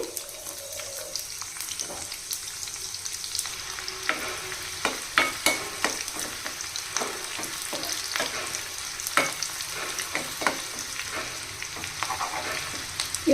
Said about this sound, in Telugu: ఆయిల్ వేడైన తర్వాత కచ్చపచ్చగా దంచిన నాలుగైదు వెల్లుల్లి రేకలు వేయాలండి అలాగే ఒక చిన్న ఉల్లిపాయ తీసుకుని ఇలా సన్నగా పొడవు కట్ చేసి వేయాలి